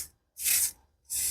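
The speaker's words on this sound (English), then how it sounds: "Just seems to be spraying out." Two short hissing spritzes from a spray bottle, close by and separated by a brief pause, during resin art crafting.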